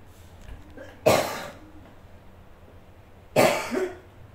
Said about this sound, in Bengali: কাশিটা কিছুতেই কমতাছে না